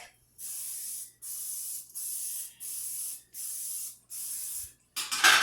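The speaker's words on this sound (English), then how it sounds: "I'm going to go ahead and spray that with my coconut oil" Six short sprays of coconut oil onto pans hiss in a steady rhythm, each lasting about half a second with brief gaps between, followed by a clattering rustle at the end.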